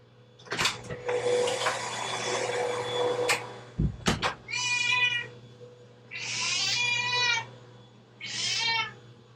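A cat meows repeatedly at a door indoors, several drawn-out whiny meows close by over a steady low hum, with some rustling and a thump between calls.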